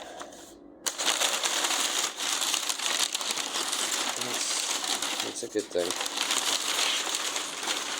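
Packing paper crinkles and crumples steadily while a board game box for Mythic Battles: Ragnarok is unpacked, close and fairly loud, with a brief pause near the start and a few words spoken over it.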